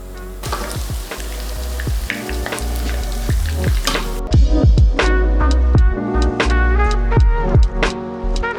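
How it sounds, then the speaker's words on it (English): Tofu nuggets frying in vegetable oil sizzle loudly and steadily up close, with bursts of crackling and occasional clinks of a utensil against the pan. "we're going to fry our nuggets in some vegetable oil"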